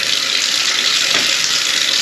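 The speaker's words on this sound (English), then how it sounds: "We're going to go ahead and dunk this underwater and see if it fogs up" Kawasaki KRX light bar from a Weisen 42-inch kit being dunked underwater, giving a steady, loud rush of splashing, churning water that runs without a break from start to end, with no voices.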